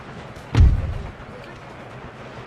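Artillery fire in the PC strategy game Empire: Total War, with a deep cannon boom that rolls off into rumbling, followed by a second sharp shot at the very end over quiet battlefield ambience.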